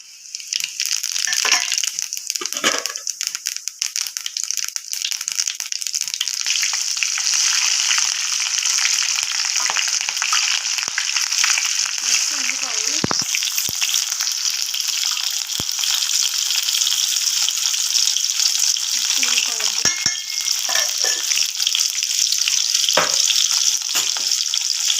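Mustard seeds and cumin frying in hot oil, a loud, dense crackling sizzle that keeps up the whole time, with scattered pops and a few stirring scrapes.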